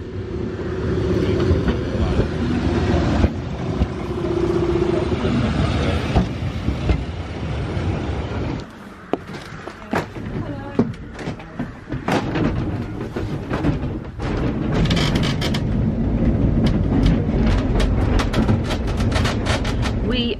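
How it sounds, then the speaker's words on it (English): Isle of Man tram rolling past on rails near Douglas and Laxey, a close rumbling pass with rattles and sharp clicks of the wheels, then fading, with brief talk in between. "It's our tram!"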